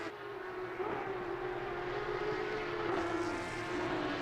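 Porsche Cup race cars with inline engines roaring past on a circuit during a sprint race, a continuous loud engine drone with a steady pitch that shifts slightly as the cars pass.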